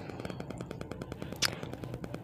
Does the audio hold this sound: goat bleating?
no